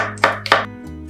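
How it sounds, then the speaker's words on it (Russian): Two crisp knife chops land on a cutting board in quick succession as an onion is finely chopped, close and distinct, over a soft steady background hum. "пока греется масло, мелко нарезаю одну репчатую луковицу"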